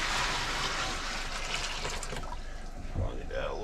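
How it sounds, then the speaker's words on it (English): Warm water heated on a stove being poured, a steady broadband rushing splash that carries on loudly for a few seconds before thinning out near the end. "So we just need enough water to cover everything."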